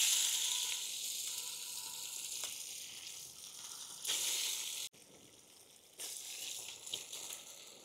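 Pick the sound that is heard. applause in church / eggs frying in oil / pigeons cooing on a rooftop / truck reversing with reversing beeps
eggs frying in oil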